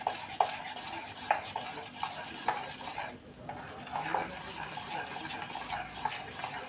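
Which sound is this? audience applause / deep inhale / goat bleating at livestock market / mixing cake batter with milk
mixing cake batter with milk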